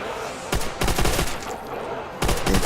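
An MG42 machine gun firing in World at War zombies, Nacht Der Untoten map: rapid, loud bursts of continuous automatic fire in three stretches separated by short pauses.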